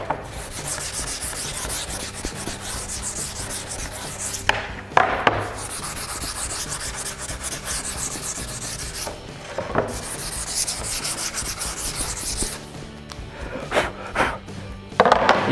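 Sandpaper is rubbed along the edge of a cabinet door in steady back-and-forth strokes, a close, continuous scratchy rasp broken by a few short pauses.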